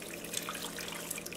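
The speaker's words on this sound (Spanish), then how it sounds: "También voy a agregarle más agua" Water pours into a pot of beef soup, caldo de res estilo Michoacán, as a faint, steady trickle with light splashes, close by and without speech.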